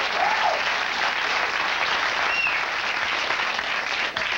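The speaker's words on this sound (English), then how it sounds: "Why did so many women cheer at that?" A late-night television studio audience of women cheers and claps in a steady, dense burst of applause that holds for several seconds with no speech over it.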